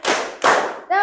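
A group claps in unison during a classroom clap game, sharp loud bursts followed by a short voiced call.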